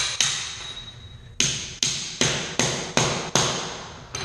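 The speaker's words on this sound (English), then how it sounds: "So I always protect my hands whenever I do a lot of nailing." Nails are hammered into tackless carpet strip on a concrete floor. A series of sharp, loud, close hammer blows comes in a fairly steady rhythm, about seven strikes, with no talk.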